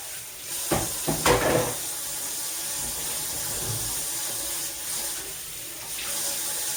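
Refrigerator parts rinsed under a running kitchen tap, a steady close splash of flowing water with a few louder bursts of clattering and spattering early on, no voices.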